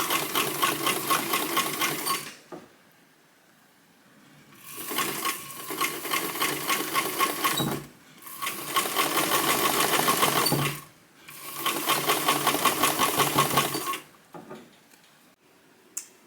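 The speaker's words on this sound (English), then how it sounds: "then I can run my serger on the edge" A serger runs along the cut edge of a bulky knit sweater seam in three long steady bursts, each a few seconds, with short pauses between; close, loud and mechanical, with no talking.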